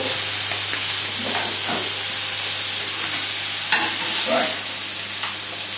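Steaks sizzle in a hot frying pan with a steady, loud, dense crackling hiss that continues throughout, close up and without speech.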